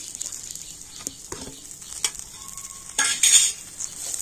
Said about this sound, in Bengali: তো চাট মশলা ধনেপাতা দিয়ে আবারও কিন্তু একটু ভালো করে সবকিছু মিশিয়ে নেব